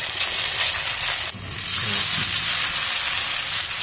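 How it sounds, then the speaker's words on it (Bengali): Radish and rice-batter pitha fries in oil on a flat griddle, giving a loud, close, continuous sizzle that swells slightly partway through, with no one speaking. "এবার তাওয়া বসানো হয়ে গেছে, এবার আমরা পিঠে ভাজবো।"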